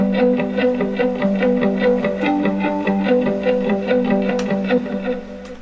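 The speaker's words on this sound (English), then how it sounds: "I laid down this guitar, which sounds like this." An electric guitar plays a steady picked pattern of repeating notes, thick with chorus, distortion and effects, continuous and fairly loud.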